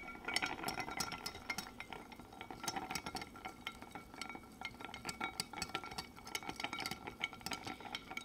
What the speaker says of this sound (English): And then we are going to just add some ice here. And stir until chilled.